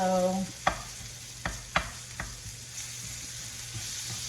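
Lobster and vegetables tossed in a hot pan, with a soft steady sizzle and a few sharp clacks as the pan or utensil strikes, fading to a quieter background hiss.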